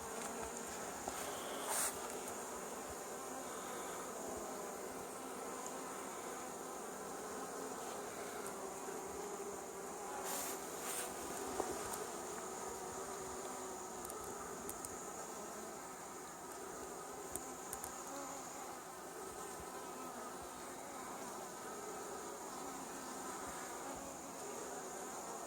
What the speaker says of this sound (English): that bee's fanning, so that's a good sign.